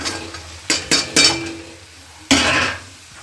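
Mixed vegetables go into a pan of spices and are stir-fried dry. A few sharp clattering scrapes and knocks of a spoon against the pan rise over a soft, low sizzle, heard up close.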